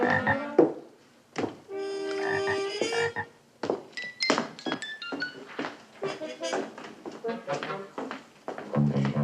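A frog croaks in a few loud, close bursts in a sitcom classroom scene, mixed with voices and light taps.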